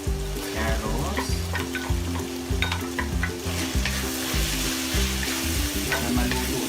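Carrots stir-frying for beef fried rice: a loud, continuous sizzle with rhythmic scraping and stirring strokes in a hot pan, close and unbroken.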